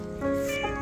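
A single short cat meow, close and clear, rising then falling in pitch.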